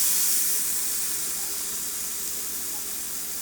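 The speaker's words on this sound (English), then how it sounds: "Like you can hear it sizzling just off the spatula" A Dr. Praeger's vegan burger patty sizzles on a hot pan, a steady bright hiss close by and alone, easing slightly toward the end.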